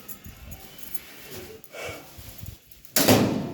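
A door is pushed shut in a home while pickles are made and a pantry is sorted: soft shuffling and rustling, then one sharp, close thud near the end.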